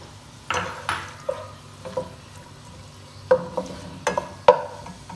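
Onions, one large or two medium, frying in oil in a pan for beef haleem, heard as a low steady sizzle broken by several sharp metal clinks and scrapes of stirring, close and fairly clear with no talk.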